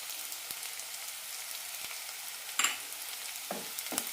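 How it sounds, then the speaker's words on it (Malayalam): Sliced onion, ginger and garlic sautéing in a pan, a soft, even sizzle with a few sharp scrapes and taps of a spoon stirring near the end, fairly quiet overall. "നന്നായി വഴറ്റാം ഒരു മിനിറ്റ് നന്നായി വഴറ്റി കൊടുക്കണം ഇഞ്ചി വെളുത്തുള്ളി നന്നായി വെന്ത് കിട്ടണം"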